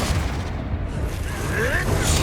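A deep, rumbling blast from the Confringo fire-explosion spell in Hogwarts Legacy, a broad booming burst under a brief whistling streak, with faint background battle noise.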